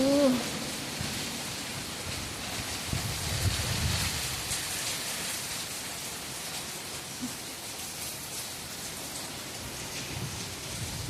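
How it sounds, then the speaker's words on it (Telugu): Rain and wind sweep through a village as a steady, full downpour hiss that stays broad and even, with a gusty swell near the start and a faint low rumble. "మా ఊర్లో వర్షం పడుతుందా. గాలి, వర్షం."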